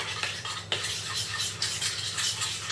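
A spoon scrapes and stirs continuously through a chocolate, sour cream and sugar topping melting in a pan over low heat, a close steady swishing with occasional soft knocks.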